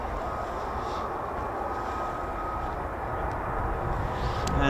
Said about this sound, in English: That's sounding more and more like an F-35A now.